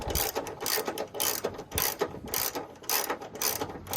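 A 10mm ratchet clicks in rapid repeated bursts while unscrewing a wiring harness bolt on a 2008-2012 Ford Escape with a 3.0L V6, close and fairly loud, with no talking.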